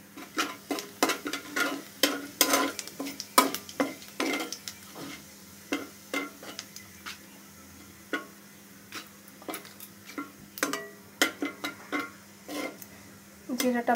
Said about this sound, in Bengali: জিরাটা ভাজা ভাজা হয়ে গেলে